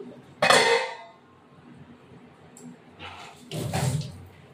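A metal lid set onto a cooking pot of fish, two clattering metallic clanks a few seconds apart, the first sharp and bright, the second fuller and more resonant, with quiet kitchen background between.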